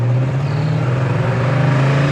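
A steady, low V8 rumble from the exhaust of a 1964 Chevrolet Chevelle with a 283 V8 while driving, heard briefly and close from inside the car.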